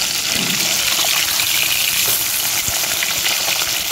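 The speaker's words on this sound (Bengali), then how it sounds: "হালকা করে ভেজে নেবো" Tilapia fish pieces fry in hot oil in a wok, producing a loud, dense, steady sizzle and bubbling with faint stirring clatter, no voices.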